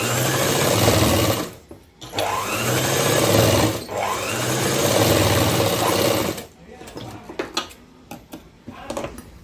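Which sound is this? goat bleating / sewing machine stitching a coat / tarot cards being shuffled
sewing machine stitching a coat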